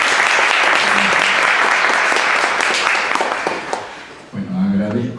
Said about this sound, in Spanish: lo recibimos con un fuerte aplauso al doctor Bain